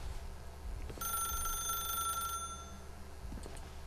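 A telephone in the video game The Stanley Parable rings in a single electronic trill lasting over a second, fairly faint above a low ambient hum.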